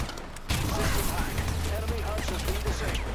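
Pistol shots in Call of Duty Advanced Warfare multiplayer, a few sharp reports amid game noise with someone talking over them.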